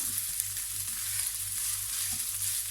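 Chopped onions and green chilies sizzle steadily in a hot oiled pan for a Punjabi sarson ka saag, a close, even frying hiss with no voices.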